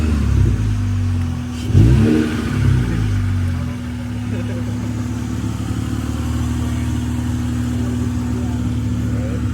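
Honda car engine revs hard at full throttle, a loud rising and falling roar near the start that settles into a steady engine drone, with some talk over it.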